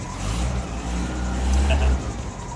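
A car engine idles steadily after being started with starter fluid following ten months of sitting unused. It is a low, even rumble close by with slight swells in loudness.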